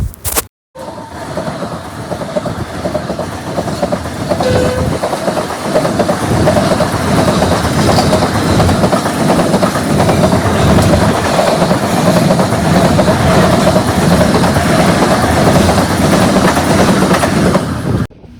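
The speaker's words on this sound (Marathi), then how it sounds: "आणि इथे क्रॉसिंग होते एक ट्रेन." A train passes through Ukshi station on the Ratnagiri–Vasai passenger line, its loud, close rumble and rhythmic clickety-clack of wheels on rail joints sustained steadily throughout.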